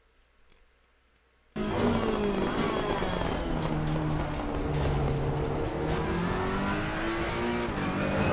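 A Ferrari 488 EVO GT3 race car at Donington Park in Assetto Corsa Competizione starts abruptly after a quiet moment, then roars loudly with rising and falling revs through gear changes, close and continuous, with no talking.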